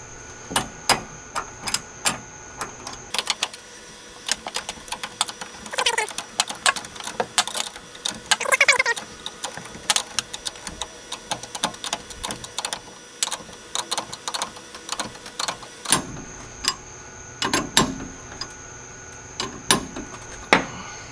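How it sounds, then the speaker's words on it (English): A hand wrench tightens the top nut on a shock absorber of a 2005–2023 Toyota Tacoma, giving a long series of close, sharp metallic clicks and ratcheting taps, irregular in rhythm with short pauses and no talking. "you're just going to take a wrench and tighten it down until 3/8 of an inch of that stud, this part of the shock, is showing"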